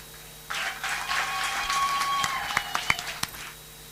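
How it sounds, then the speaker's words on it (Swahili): Wedding guests applaud inside a church, a burst of moderate clapping that starts after a quiet moment and continues with some louder individual claps and faint crowd noise. "Basi makofi zaidi"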